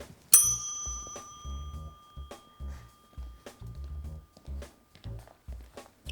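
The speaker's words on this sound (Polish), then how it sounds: "Zastanawiasz się, po co jest ten dzwonek?" A bell is struck once near the start, a bright ding that rings on and fades over a few seconds, followed by a series of low, muffled knocks and voices.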